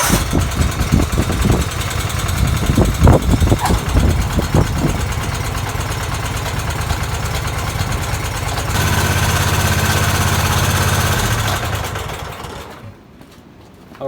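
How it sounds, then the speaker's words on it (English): Engine of a Dixon zero-turn lawn mower with hydrostatic drive running steadily close by, a loud, constant idle that rises in pitch as the clutch engages, then cuts off near the end. "I'm gonna fire up the engine, and as soon as I drop that clutch lever, it's gonna engage the hydrostatic transmission"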